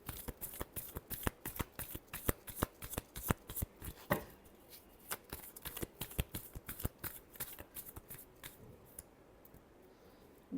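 Tarot cards are shuffled in quick, crisp riffling bursts, a rapid rhythmic patter of card edges flicking close to the mic with no talking.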